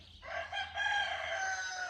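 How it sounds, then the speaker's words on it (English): A rooster crows outdoors, one long, loud, close call lasting most of the moment, with no other sound over it. "That rooster is really out here."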